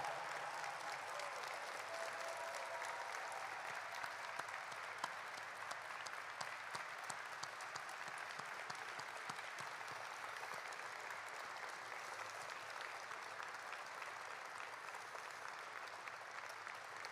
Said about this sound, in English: would you join me in giving a vigorous round of applause to Commander Bob Behnken and Commander Doug Hurley?